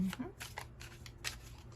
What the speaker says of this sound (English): I'll just do a little quick shuffle here and we'll cut the deck